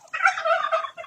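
A turkey gobbles on a small backyard poultry farm, a loud, close, rattling burst of calls running about a second without pause, no voices.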